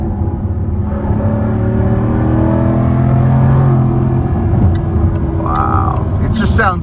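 A 2023 Jaguar F-Type P450 AWD pulls hard in first gear onto a multi-lane highway, its loud engine note climbing steadily in pitch, with a few burbles near the end and a voice faintly over it.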